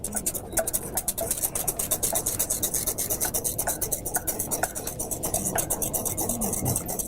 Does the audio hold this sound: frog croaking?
no